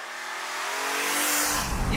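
A BMW E46 M3 engine pulls hard while driving, its tone rising steadily under load, with a burst of louder rumble toward the end; speech is mixed in.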